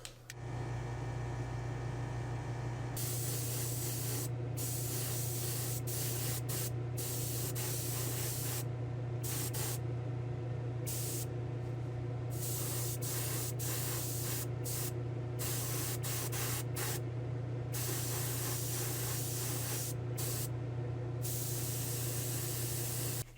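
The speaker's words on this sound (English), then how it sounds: "we're gonna spray a little glue down and we'll try this out" Steady, loud hiss of spray adhesive being applied to a diecast Dukes of Hazzard county sheriff cruiser inside a spray booth, with a constant booth fan hum underneath and brief pauses in the spray.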